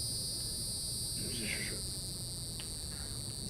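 Cicadas vibrate their abdomens in a continuous, high-pitched buzzing drone. The sound holds steady and fairly faint throughout, with a few soft, brief sounds over it.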